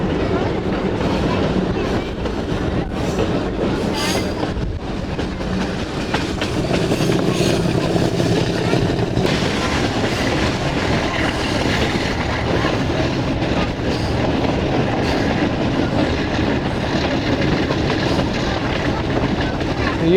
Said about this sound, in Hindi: सब डर गए जानवर वगैरह ट्रेन की आवाज़ से